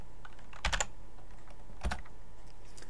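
Computer keyboard typing, two short clusters of quick key clicks about a second apart, close and crisp over a quiet background hum.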